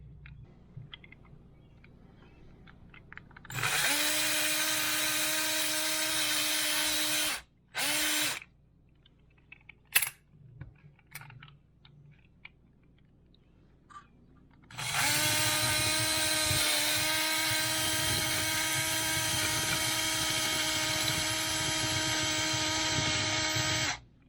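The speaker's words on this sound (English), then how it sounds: "So either I grind that out or file that down. I'm going to try to grind that out first." A power grinder grinds metal on a classic Jeep Wagoneer tailgate in two long, loud, steady whining bursts, separated by a short burst and a pause filled with faint clicks and handling noises.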